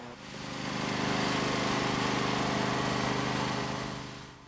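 A riding lawn tractor of the L100/G100 series runs steadily while reversing, its engine drone rising in and holding a constant, loud hum with a slight idle-like throb throughout, no voices.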